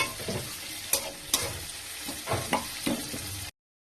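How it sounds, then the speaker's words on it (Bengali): A spoon stirs in a pan with quick scraping strokes over a steady sizzle while amudi fish fry close by. The sound stops abruptly near the end. "এখন আমি নাড়ছি, ওদিকে আমার আমুদি মাছ ভাজা হচ্ছে।"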